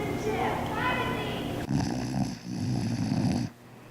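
A child snores on stage during a fifth grade school play, loud, rough, drawn-out snoring breaths in a couple of long pulls, heard in a hall.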